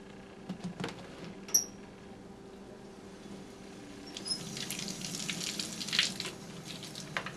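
Tap water rinses suds off a dryer lint screen, a faint running trickle that grows louder and splashier in the second half, with a few light clicks and knocks.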